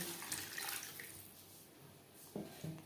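Water is poured into a pan of potatoes and spices, a faint, soft splashing trickle with a couple of brief louder splashes near the end.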